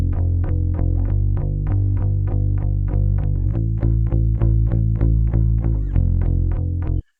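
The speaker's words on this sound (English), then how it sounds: "It's just a straight up Fender bass into an interface." Clean, unprocessed Fender electric bass played straight into an audio interface with no plugins, a steady run of evenly repeated plucked notes lasting about seven seconds, loud and close, no voices.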